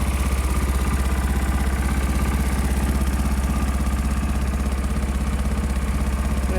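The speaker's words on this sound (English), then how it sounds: "We got the loader tractor ready." A Massey Ferguson 12 garden loader tractor engine runs steadily nearby with an even, pulsing putter that stays constant throughout, heard alone.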